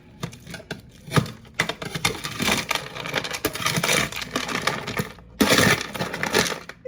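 A spatula scrapes and pries frozen cubed squash loose from a tray, giving close, irregular crunching, cracking and snapping bursts that keep going with short pauses and no speech.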